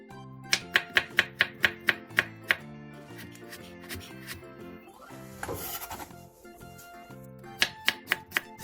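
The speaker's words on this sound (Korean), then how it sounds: "양파 3개와 당근 2개를 채 썰어주세요" Knife julienning onions and carrots on a cutting board, a fast run of crisp evenly spaced chops, then a pause with scraping and rustling, then another quick burst of chopping; no speech.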